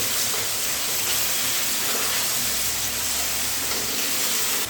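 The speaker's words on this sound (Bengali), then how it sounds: "এবারে সব কিছু দিয়ে আবারও খুব ভালো করে একটু ভেজে নিতে হবে" Pasta ingredients fry in a pan on a home stove, giving a steady, loud, close hiss of sizzling that runs without a break, with no talking.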